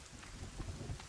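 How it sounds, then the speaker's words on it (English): Rain falling in the survival game The Forest, a steady soft hiss of drops with low rumbling underneath, fairly quiet and with no voices. "Oh no, you're not gonna tell me it's gonna rain."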